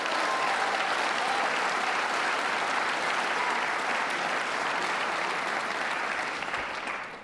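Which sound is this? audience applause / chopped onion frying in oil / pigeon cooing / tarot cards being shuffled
audience applause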